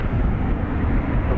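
A British Airways jet airliner at DFW Airport gives off a steady, loud, broad engine roar with a deep low rumble, heard briefly and without interruption.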